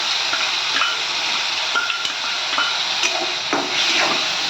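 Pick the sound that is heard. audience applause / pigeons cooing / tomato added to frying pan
tomato added to frying pan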